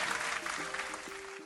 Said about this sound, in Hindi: ये तो हो जाए तालियां जोरदार हैरी के लिए।